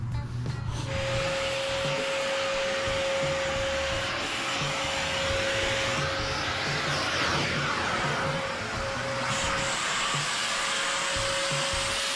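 Vacuum cleaner sucking up diatomaceous earth while treating for bed bugs, a loud continuous motor whine and airflow roar with a steady tone throughout, the intake pitch shifting slightly as the nozzle is moved.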